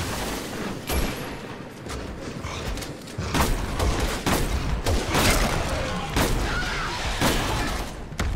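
Hip-fire gunshots in the video game Resident Evil 6 crack in rapid irregular bursts amid game effects, with someone talking briefly in between.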